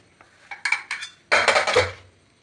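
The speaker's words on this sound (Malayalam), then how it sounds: "ഇനിയിപ്പോൾ കുക്കർ നമുക്ക് തുറന്ന് നോക്കാം." Metal clatter of a pressure cooker lid being handled and opened at close range: a few quick clinks, then a louder burst of scraping and rattling pot sounds, with no talking.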